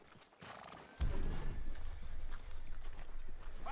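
Hooves clip-clop steadily on the ground and a horse whinnies in the game Red Dead Redemption 2, the hoofbeats kicking in suddenly after a second and continuing at moderate volume.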